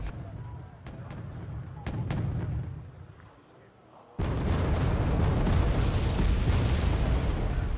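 Mortar rounds and explosions in the WarGame AirLand Battle video game, sharp bursts then a sudden loud, sustained rumbling roar of blasts.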